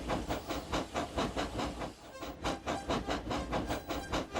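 Steady rhythmic chuffing of a steam engine, regular puffs with hissing steam, close and loud, pausing briefly mid-way before resuming.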